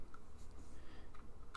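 Keys on a computer keyboard tapped while entering a dimension in OnShape CAD software, a few quiet, scattered clicks over a low background hum.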